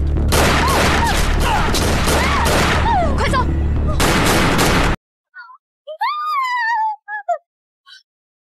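Battle gunfire in an anti-Japanese war film, a dense continuous fusillade of rifle and machine-gun shots, loud and close, with shouted voices in between, then cut off abruptly before a few brief spoken lines.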